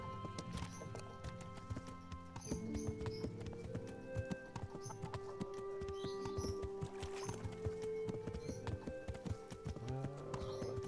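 A horse walks with steady clip-clop hooves in Kingdom Come: Deliverance, near and clear under sustained music, with a brief neigh or whinny heard.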